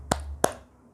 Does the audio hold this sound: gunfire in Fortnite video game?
no